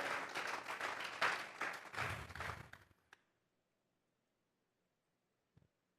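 A church congregation applauds in a dense, close burst of clapping for about three seconds, then stops abruptly, leaving near silence with a single faint tap.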